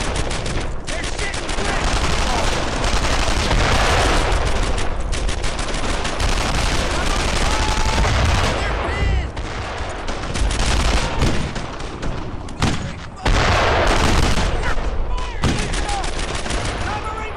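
Dense, continuous gunfire from the World War II shooter Brothers in Arms: Earned in Blood, rifles and machine guns crackling almost without pause through a loud battle, with shouted voices of soldiers mixed into the din.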